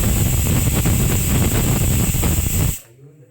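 A pressure cooker whistle releases a loud, forceful rush of hissing steam continuously for nearly three seconds, then abruptly drops away to faint background sound.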